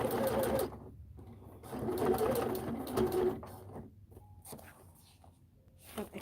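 A sewing machine fitted with a wide Teflon foot stitches in short runs of rapid, whirring needle strokes, stopping and starting, with quiet pauses between the bursts.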